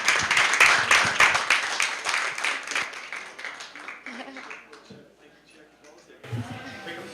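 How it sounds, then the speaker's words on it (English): A conference audience gives dense, loud applause that gradually thins and fades, followed by a brief spoken phrase from a host. "Big applause for you once more"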